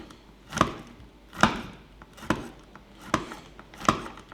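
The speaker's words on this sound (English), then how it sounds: "I'm also using the biltong cutter from Biltong Depot" Venison biltong sliced with a Biltong Depot biltong cutter: five evenly spaced chopping thuds, each a crisp close knock with a short tail, in a steady slow rhythm without talk.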